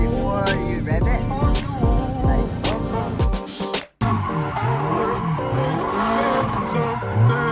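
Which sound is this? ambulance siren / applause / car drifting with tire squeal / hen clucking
car drifting with tire squeal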